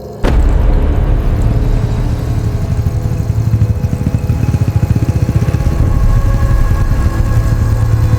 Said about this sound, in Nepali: सुनसान सडकमा एउटा मोटर बाइक आइरहेको छ।